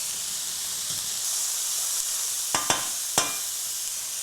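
Chopped carrot and celery sizzle steadily in a hot pan, a constant bright hiss with a few quick clicks and scrapes of stirring near the end.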